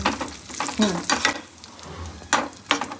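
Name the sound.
nuts frying in a kadai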